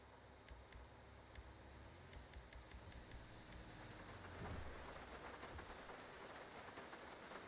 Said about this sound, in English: The rain again.